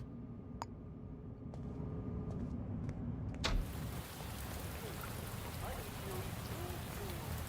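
Rain falling in the detective game Shadows of Doubt, a steady hiss of heavy downpour that swells in after a few faint ticks and tones, then continues evenly and fairly loud.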